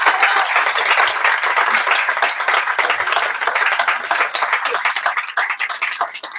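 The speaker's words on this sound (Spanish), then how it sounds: "vamos a darles un fuerte aplauso" An audience at a book presentation gives sustained, dense applause, close and loud, with many hands clapping steadily for several seconds before it thins out slightly at the end.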